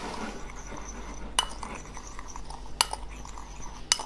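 A utensil stirs taco spice powders together in a bowl, with soft scraping under a faint background hum and three sharp metallic clinks against the dish spaced about a second apart.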